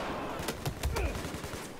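Battlefield 4 gunfire crackles in a quick series of sharp shots at moderate distance, with a few louder bursts in the middle of the stretch.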